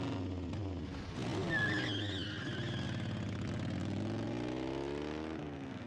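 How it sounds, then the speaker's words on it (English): A motorcycle passes by with a rising and falling engine drone over a few seconds, laid over a bed of children's show music, fairly loud and steady throughout. "Motorcycle."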